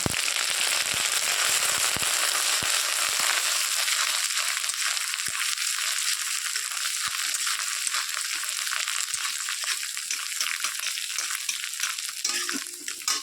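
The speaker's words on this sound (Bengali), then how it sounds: "তেলটা গরম হয়ে গেল এবার দিয়ে দিচ্ছি ফোড়নটা দিয়ে দিলাম ফোড়ন ও বাবা দিয়ে দিচ্ছি আদা বাটা" Whole spices and ginger paste hit hot oil for a mixed vegetable dish, giving a loud, dense crackle and spatter that pops continuously up close and eases only slightly toward the end.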